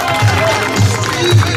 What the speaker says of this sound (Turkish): Evet alkış şampiyonla bir alkış daha yok mu?